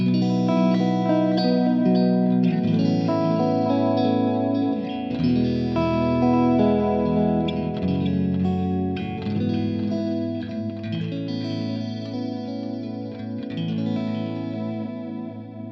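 Electric guitar through a JHS Pink Panther delay pedal set lush and modulated, dense sustained chords swimming in wavering echoes, a continuous loud wash with no talking.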